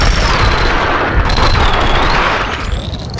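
Sustained heavy gunfire from a shootout in the PC video game Max Payne 2, with rapid overlapping shots and booming blasts forming a dense, loud, continuous barrage throughout.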